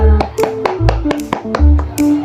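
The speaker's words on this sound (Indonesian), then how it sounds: "Tepuk tangan untuk kita semua" Children in a second-grade classroom clap their hands in a quick rhythmic pattern of sharp, loud claps, accompanied by chanting voices and low thumps as the beat repeats several times.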